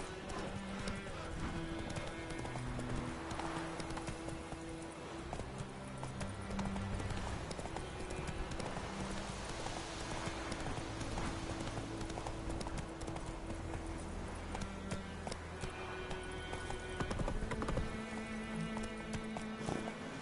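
Roach the horse trots in The Witcher 3, hooves clip-clopping in a steady rhythm over game music and ambient sound for the whole stretch, fairly close.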